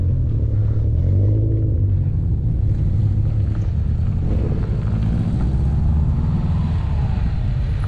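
A Subaru Impreza's engine rumbles low and loud on a mountain road, a sustained, throaty drone mixed with heavy wind buffeting the microphone.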